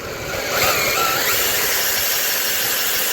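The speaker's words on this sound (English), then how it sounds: "I'm gonna try to drill you a hole, show you what's going on." Ice auger spinning up and boring a hole through frozen lake ice in Fairmont, Minnesota, a loud close motor whine that rises quickly and then holds steady, with no talking.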